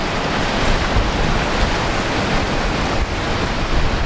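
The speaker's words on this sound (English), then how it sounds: "That wind is really gusting." Strong wind gusts roar across the open grounds of Brisbane Airport during Cyclone Alfred, a dense, steady broadband rush with slight surges, loud and continuous without voices.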